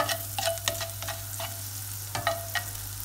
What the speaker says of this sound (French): un peu de l'ail avec du beurre.